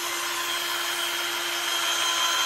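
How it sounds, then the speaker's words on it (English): A Snapfresh cordless drill runs steadily at constant speed, its high motor whine holding level and close for the whole stretch with no pauses and no voices. "I can pretty much drill backwards."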